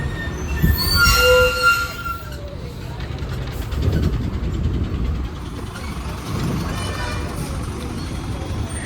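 A train passing through Majestic railway station in Bengaluru, loud and close, with a high metallic wheel squeal early on and a continuous rumbling rattle of wagons that swells and fades in waves.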